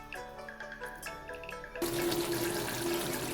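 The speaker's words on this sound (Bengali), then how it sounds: "এবার জল দিয়ে দিচ্ছি।" Water pours suddenly and steadily into a cooking pot of bean and potato curry, a loud rushing gush that starts abruptly after quieter kitchen sounds and continues to the end.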